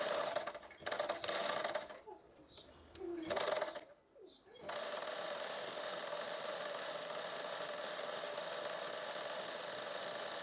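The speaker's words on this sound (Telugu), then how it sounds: "చూడు, ఇప్పుడు ఇలా పెట్టి ఇప్పుడైతే కుట్టేస్తున్నాను నేను." Sewing machine stitching thread piping onto a blouse, a steady fast whir broken by two short pauses, then running continuously; the sound is quiet overall and no one talks.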